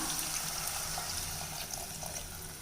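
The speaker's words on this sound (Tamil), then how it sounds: "இப்போ நம்ம தேவையான அளவுக்கு தண்ணி விட்டுக்கலாம்" Water pours into a sautéed curry base in a pressure cooker, a continuous splashing, trickling stream at moderate level for a couple of seconds, with no talking over it.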